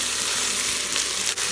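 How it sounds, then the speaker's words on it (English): Ginger garlic paste fries in a Ninja Foodi with chopped tomato for vegetable pulao, a brief, dense, even sizzle that is close and fairly loud. "Fry for a couple of minutes."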